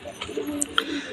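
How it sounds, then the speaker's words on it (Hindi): Pigeons cooing up close at a home in India, soft low coos with a couple of brief higher chirps across about a second. "एक छोटी कबूतरी, एक बड़ी कबूतरी, देख लो दोनों कबूतरियाँ बैठी हुई हैं।"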